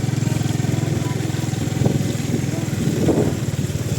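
Motorcycle idling and creeping along a muddy diversion road, its engine putting out a steady close, throbbing pulse with slight rises in revs, while a voice speaks briefly nearby.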